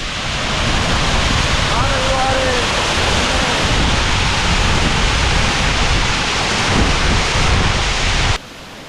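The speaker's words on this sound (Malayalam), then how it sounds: "പാറക്കെട്ടിലൂടെ ആർത്തിരമ്പി തുള്ളിപ്പതിഞ്ഞ് അങ്ങനെ ഒഴുകുകയാണ് നമ്മുടെ സ്വന്തം വളഞ്ഞങ്ങാനം." Valanjanganam waterfall on the Kottayam–Kumily road, where water plunges about 75 feet over rocks, gives a steady, dense, loud roar of crashing water that continues unbroken before cutting off sharply near the end.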